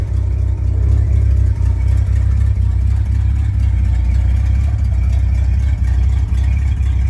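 A 1966 Chevy C10 pickup engine runs with no exhaust system fitted, giving a loud, steady, raw rumble with a heavy low-end drone and a rough, choppy beat that holds through the whole stretch.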